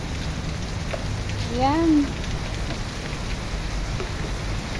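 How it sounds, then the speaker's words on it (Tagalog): Steady heavy rain pours throughout, a dense close hiss, while a short voice sound rises briefly partway through. "malakas yung ulan"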